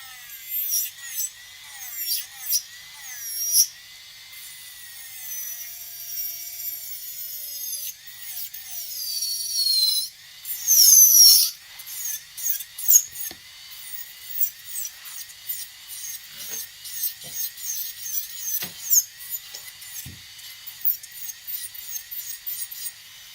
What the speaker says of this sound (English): I like to clean my drill machine really nice and clean